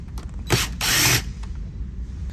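Screws being worked out of a Yamaha 704 shift and throttle control binnacle, heard as a few close mechanical ratcheting bursts, one short and one longer, against a quiet background.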